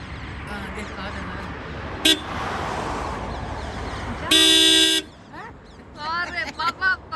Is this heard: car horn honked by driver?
yes